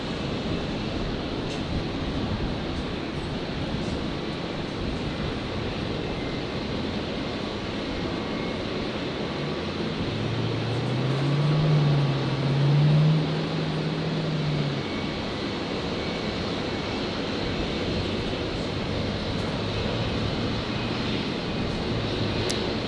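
Airplane descending on approach near Brisbane airport, a continuous distant engine roar under steady outdoor background noise, swelling a little louder midway with a low droning tone before fading back, no one talking.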